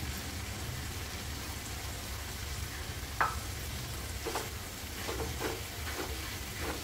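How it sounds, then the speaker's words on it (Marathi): Chopped spinach going into a hot pan for palak paneer, a steady soft sizzle close by with a few brief stirring scrapes and crackles and no talk over it. "आता मी याच्यामध्ये हा पालक घालून घेते, चिरून घेतलेला."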